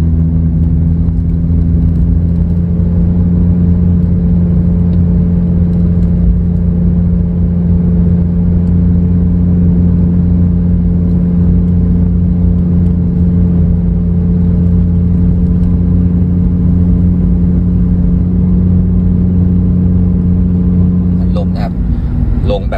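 An automatic car's engine drones steadily while the car drives downhill and the driver shifts down to a lower gear. The hum holds at a constant low pitch near the mic throughout, with someone speaking over it.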